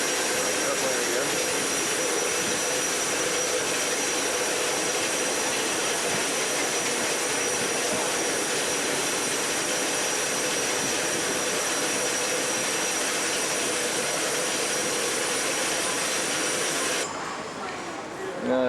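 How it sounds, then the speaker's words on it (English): Steady loud roar of an airplane's jet engines, continuous and broadband, cutting off abruptly near the end. "Airplane again."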